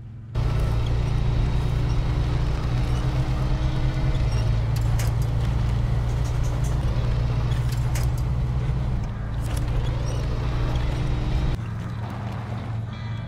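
A Kodiak C70 truck engine drones steadily in SnowRunner, a loud continuous low rumble near the listener that holds through the whole stretch and eases slightly near the end.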